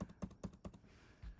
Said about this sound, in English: I'm going to use my left bracket on my keyboard